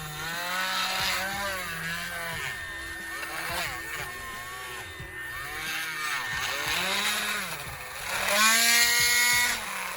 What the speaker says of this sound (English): So now what we're gonna do is take this, drill in a little further.